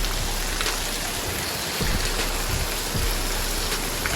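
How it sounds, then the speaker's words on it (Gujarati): The season's first rain pours down with wind, a dense steady wash of drops close by with gusty rumble underneath and a few louder splashes. "જુઓ પવનના સાથે વરસાદ આવી રહ્યો છે"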